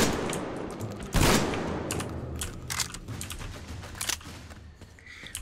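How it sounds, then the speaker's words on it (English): Gunshots from a weapon in the shooter game Metro fire at attacking creatures, one sharp close blast followed by scattered rapid shots and clicks, with no talking. "This gun is really effective against them."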